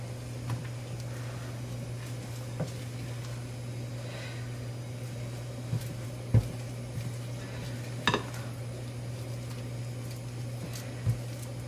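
Sauce stirred in a pan with a spatula on a stove, with quiet continuous scraping and faint sizzle under a steady hum, punctuated by a few sharp clicks and knocks of the utensil against the pan.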